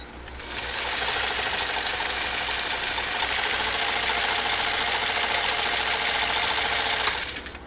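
A Kenmore 158.904 sewing machine with a 1.2 amp motor stitches through 18-ounce cowhide leather on a workbench, a loud, steady mechanical whir with rapid needle clatter that ramps up, runs evenly for about six seconds, then stops.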